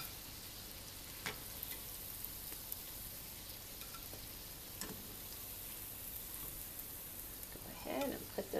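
Donuts frying in grease that is too hot, a soft steady hiss running throughout with a few brief clicks and a louder stir of movement near the end.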